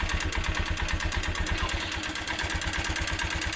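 A motorcycle engine idles steadily with a rapid, even pulsing beat and a faint rhythmic ticking knock running through it, close and unbroken.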